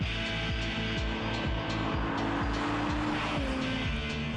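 Revving engine of a Mitsubishi Eclipse with a 263-horsepower power plant, driven hard, with repeated rising and falling gear-change cycles, tire noise and a steady roar close to the microphone.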